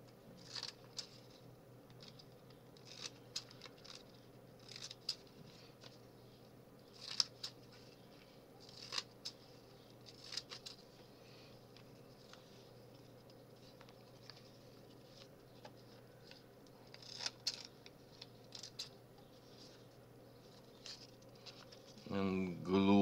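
Scissors cutting paper for small artist trading cards make faint, scattered snips and clicks over a quiet background, with a louder rustle near the end.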